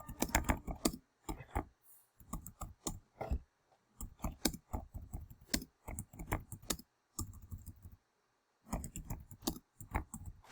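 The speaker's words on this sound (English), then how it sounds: "in the background, there's some keyboard typing" Computer keyboard typing in bursts of quick, close key clicks, stopping and starting with short pauses between runs.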